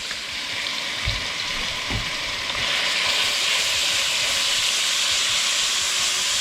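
Gumbo ingredients brown in a pot with a steady sizzling hiss that swells and grows louder partway through, a couple of soft knocks early on, close and without voices.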